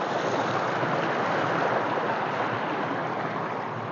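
Strong river current rushing steadily past, a dense, continuous wash of turbulent water close to the microphone with a little wind buffeting and no talk.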